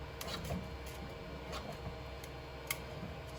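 A 3D printer extruder pushes filament through a 0.6 mm nozzle, giving faint, steady mechanical whirring with light irregular ticks, close up and alone.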